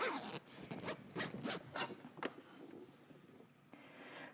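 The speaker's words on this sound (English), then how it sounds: "Okay, you can go ahead and close your zipper." A dress zipper is pulled closed in a quick series of short, close rasping strokes, several bursts in a row that then fade into faint handling noise.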